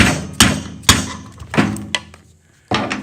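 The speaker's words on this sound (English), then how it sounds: "now we're tapping in. They just put these bearings in the one half of the wheel." Bearings being tapped into one half of a zipper closing wheel, heard as a few sharp, close metallic knocks spaced unevenly with short pauses between.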